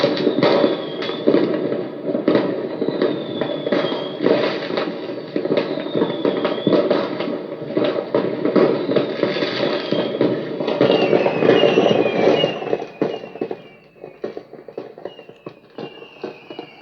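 Recorded fireworks turned up loud for puppies: a continuous dense crackle and rumble of bursts with occasional whistling rising tones, steady for a long stretch before thinning out toward the end.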